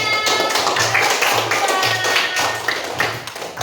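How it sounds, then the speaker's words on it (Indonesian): Applause in an Indonesian school classroom, a dense patter of many small hands clapping steadily at close range, with a low rhythmic hum running underneath throughout. "terima kasih, tepuk tangan."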